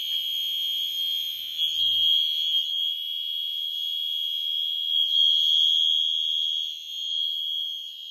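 Loud, piercing steady tone from a Mini Exceeder fire alarm sounding continuously up close, with faint low thumps underneath.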